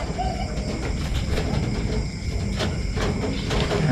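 Pigeons cooing softly at a training toss in the Philippines, low murmuring calls under steady background noise with a few sharper clicks.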